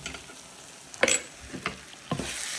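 Tomato curry with tamarind fries in a pan, a continuous low sizzle broken by a few sharp scrapes and clanks of a spoon stirring against the metal, close and fairly quiet.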